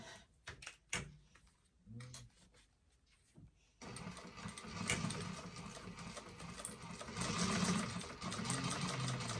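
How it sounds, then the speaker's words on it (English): A sewing machine top stitches a leather bifold wallet, starting with a few clicks and short bursts, then running in a fast, continuous mechanical whir close by; no one speaks. "we're going to go an 1/8 of an inch top stitch just up here all the way to the top"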